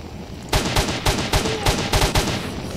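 A zombified stalker in S.T.A.L.K.E.R.: Shadow of Chernobyl fires a gun, seven or eight loud sharp shots in a quick irregular burst over a steady game background, no voices.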